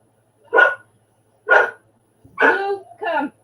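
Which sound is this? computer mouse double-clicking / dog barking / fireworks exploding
dog barking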